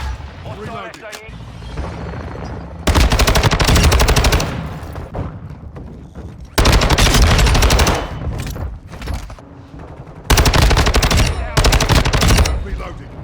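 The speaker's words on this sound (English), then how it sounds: "This is the Bruen Bullpup platform." A Bruen Bullpup rifle fires in loud sustained automatic bursts in Modern Warfare 2, three long strings of rapid shots with game voice callouts between them.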